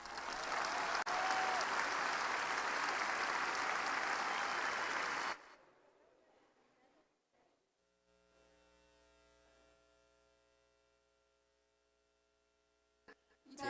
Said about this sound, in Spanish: recibamos con un aplauso a Laura Esquivel.